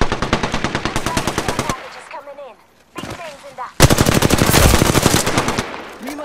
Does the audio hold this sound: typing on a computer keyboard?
no